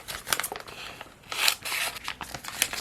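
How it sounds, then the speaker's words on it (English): Scissors snipping through clear vinyl transfer tape from Dollar Tree, a few short crisp cuts with light crinkling of the plastic sheet, close and fairly quiet with no talking. "So let's just cut out a little bit of this."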